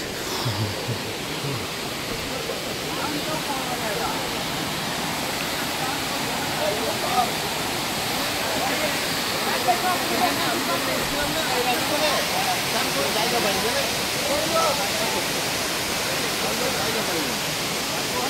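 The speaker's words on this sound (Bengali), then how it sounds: "তো বামনি ফলসের একদম নিচে নেমে গেছি," Bamni Falls at Ajodhya Hills, Purulia, heard from the foot of the waterfall: a steady, close roar of falling water for the whole stretch, with faint voices now and then beneath it.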